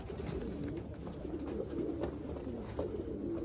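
Pigeons give soft, low cooing calls at close range over a steady background hum, repeating at intervals, with no talking.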